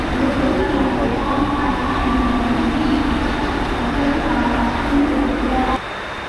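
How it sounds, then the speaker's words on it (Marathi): A Mumbai local train rumbles steadily and loudly at CBD Belapur railway station, a dense continuous roar that drops off abruptly near the end. "तर मग आतमध्ये चाललं आहे आपण ट्रेन पकडण्यासाठी"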